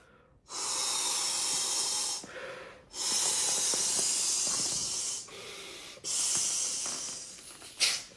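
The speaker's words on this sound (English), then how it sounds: "is blow straight down into the valve without putting anything really inside your mouth and having to bite on the valve itself" Three long bursts of breath blown by mouth straight into an inflation valve, each a loud steady hiss of air lasting a couple of seconds, separated by short pauses for inhaling, ending with a brief sharp puff.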